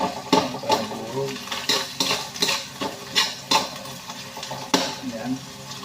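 A spoon stirs chicken pastel into rice in a pan for fried rice, with close, rhythmic scraping knocks of utensil against metal over a soft sizzle.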